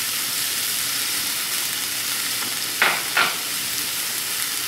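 Onion and bell pepper (chile morrón) frying in a pan for bacon pasta, a steady hissing sizzle with two short louder bursts of stirring near the end, no talking.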